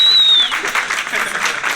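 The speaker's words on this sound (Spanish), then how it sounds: "Quiero ese aplauso." Audience applause at a freestyle rap battle (Fogata Freestyle), a burst of clapping filling a short moment after a whistle-like tone fades.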